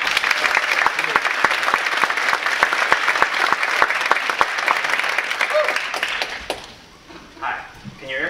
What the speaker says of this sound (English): Let's have a big round of applause for Bobby Glushko